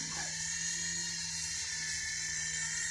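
A cheap indoor RC helicopter from Kmart hovers close by, its small motor and rotor giving a steady high-pitched whine with a constant hum as the throttle is adjusted.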